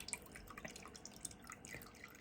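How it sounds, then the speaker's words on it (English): Liquid from a home-brew mash bag wrapped at the top drains into a vessel below, giving scattered soft drips and trickles at an irregular pace, faint and close, with no talking. "I'm just going to wrap up the top and just let what's left in there just drain"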